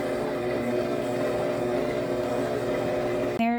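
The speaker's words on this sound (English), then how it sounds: "Now we're going to mix this up on a low speed and then slowly speed it up as it starts to become incorporated." A stand mixer beats cream cheese frosting on low speed, giving a steady close motor whir with an even rhythmic hum that cuts off abruptly near the end.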